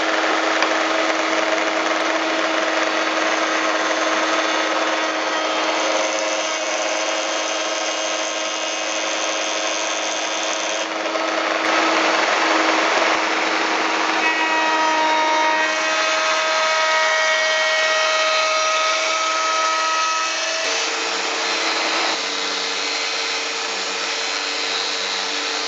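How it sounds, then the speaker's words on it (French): A power sander runs steadily against wooden bed parts in a workshop, a loud continuous whirring drone whose pitch and tone shift as pressure changes, with no pauses. "Je ponce soigneusement toutes les pièces"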